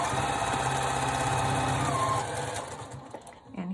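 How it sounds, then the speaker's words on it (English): A sewing machine stitches the seam of a scrappy heart quilt block with a close, rapid, steady whirring chatter that slows and fades out near the end. "I'm going to just do a little stitch, back stitch to hold that."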